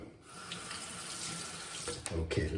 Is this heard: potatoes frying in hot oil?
no